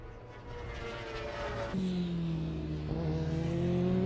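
A Yamaha R1 superbike races at a Le Castellet endurance event, its engine rising to a loud, sustained high-pitched wail as it accelerates past, with the drone of other machines in the background.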